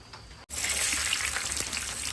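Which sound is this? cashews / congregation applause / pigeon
cashews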